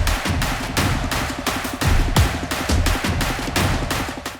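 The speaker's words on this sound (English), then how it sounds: "Orchestral drums without effect sounds like this." Loud, dense orchestral drum pattern with booming low hits and rapid rolling strikes, dry and unprocessed, playing steadily without any voices.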